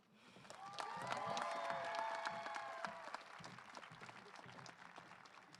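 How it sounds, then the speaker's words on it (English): Crowd applause at a professional women's hockey expansion announcement in Las Vegas swells in the first seconds and holds steady as a wash of clapping with a few cheers, then eases off, faint and distant. "How about another big round of applause for those young ladies?"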